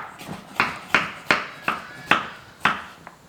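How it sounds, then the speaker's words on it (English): A knife chops salad ingredients such as mushroom, onion or olive steadily on a cutting board, about eight crisp, evenly spaced strikes, close up with no talking. "Always stop talking when chopping whatever you're chopping."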